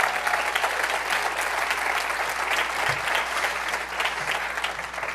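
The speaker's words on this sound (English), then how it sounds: "Let's give him a round of applause." An audience at a YMCA of the Greater Twin Cities event gives a new senior vice president a steady round of applause, the clapping close, full and sustained without pause.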